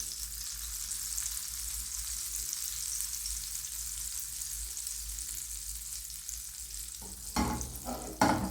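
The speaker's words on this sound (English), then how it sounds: "Then pour everything into the frying pan." A sweet potato and egg mixture fries in a pan over low heat, giving a soft, steady sizzle throughout with a few louder stirring clatters near the end.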